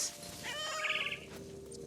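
A cat meows once in the video game What Remains of Edith Finch, a drawn-out wavering cry over a quiet tonal background hum.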